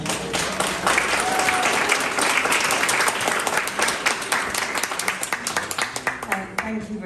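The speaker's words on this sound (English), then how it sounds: "Please give a big round of applause to your panel." An audience at a community radio panel event breaks into sustained applause, many hands clapping densely at first, then thinning out toward the end.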